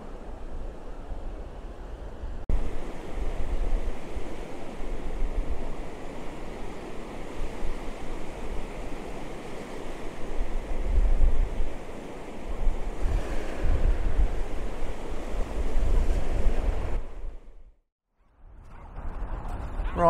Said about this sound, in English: you can't come to the seaside without coming down to the water's edge